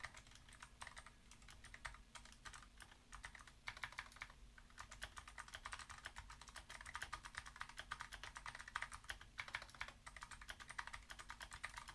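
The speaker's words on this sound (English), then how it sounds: "I think it starts the second I start typing" Rapid, continuous clatter of keys on a computer keyboard during a Typeracer typing race, a steady close-up stream of keystrokes that grows slightly denser and louder after the first few seconds, with no talking.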